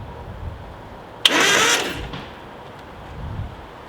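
A Nissan 720 ST truck, rescued after years of sitting, cranks over on a previously stuck starter with Marvel oil in the cylinders, giving a single loud burst of less than a second that fades back to quiet.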